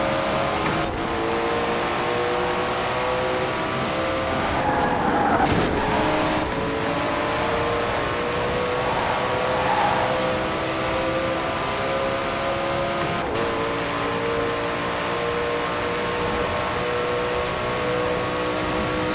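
A Koenigsegg One:1 engine screaming at high speed in Forza Horizon 4, a loud, steady high-pitched drone held for many seconds with brief dips and surges as it shifts, plus wind roar.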